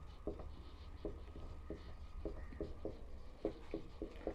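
Chalk or marker writing on a board during a physics lecture on electric dipoles, heard as faint, intermittent tapping strokes in short irregular bursts over quiet room tone, with no voice.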